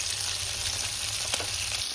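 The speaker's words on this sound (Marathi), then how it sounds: "आता मस्तपैकी फ्राय होणार आहे मित्रांनो" Baby surmai kingfish pieces fry in a hot pan, a loud, continuous, close sizzle with a brief stir or shift near the end and no talking.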